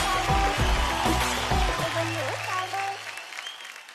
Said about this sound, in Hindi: तो जोरदार तालियां आप तीनों के लिए